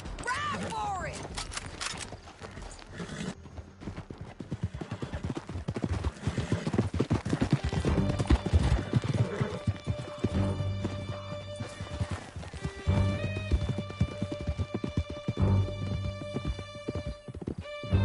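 Horses gallop in a video game with loud, steady hoofbeats and the clatter of riders pushing hard, mixed with game sounds and occasional voices.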